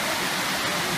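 A waterfall in a forest near Lake Issyk-Kul gives off a steady, dense rushing roar of falling water, continuous and close, with no other sounds over it.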